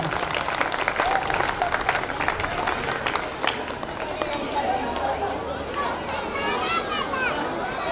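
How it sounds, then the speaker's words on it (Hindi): An audience at a school annual day celebration applauds to welcome a children's performance, steady clapping mixed with crowd chatter and children's voices. "इनका तालियों के द्वारा जोरदार स्वागत करिए।"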